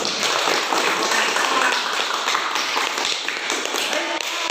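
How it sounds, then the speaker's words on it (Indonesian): A school class gives a dense, continuous round of hand clapping in the morning, loud and close, with no break across the whole stretch. "Kita beri tepuk tangan di pagi hari ini."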